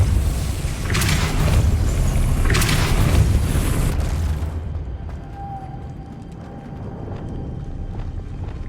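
A Repulsor spell impact in the video game Hogwarts Legacy hits as a loud, deep booming blast with rushing debris for about four seconds, then falls away to a quieter ambient game background.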